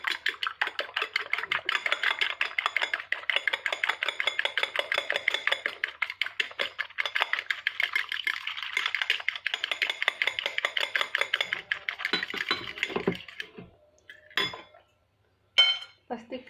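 Risol batter gets whisked briskly in a bowl, a fast, steady run of clinking strokes against the sides that slows and breaks into a few separate knocks near the end.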